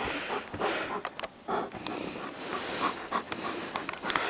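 A big Alaskan malamute pants and snorts close by, with quick, irregular bursts of breathing and sniffing broken by brief pauses.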